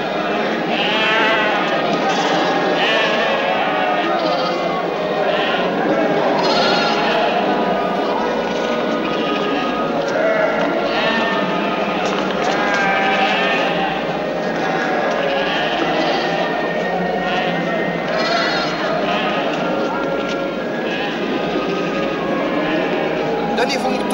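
Sheep bleating repeatedly, many animals calling over one another from near and far, with people talking underneath throughout.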